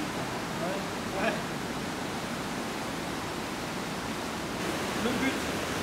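A waterfall inside an underground cave gives a steady, dense rush of falling water that fills the space evenly and stays constant throughout, with no voices over it.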